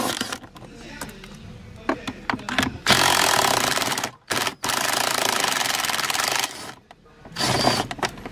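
A power drill whirs in several bursts of varying length while removing 10mm screws, stopping and starting, with clicks and handling noise between runs.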